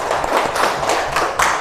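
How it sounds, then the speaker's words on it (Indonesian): A school class claps hands together, a burst of rapid overlapping claps at close range, fairly loud and continuous. "Mari kita tepuk tangan"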